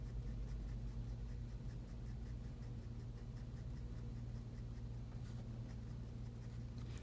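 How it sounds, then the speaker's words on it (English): Pencil scratching softly and steadily across paper while shading light feathery strokes on a Canada goose drawing, continuous close texture over a low steady background hum. "just draw some lighter kind of feathering at the bottom"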